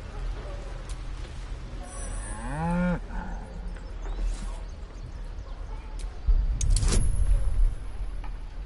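An ox in Baldur's Gate 3 lets out a single drawn-out moo, loud and close, over a low game ambience, with a rumbling shuffle following it.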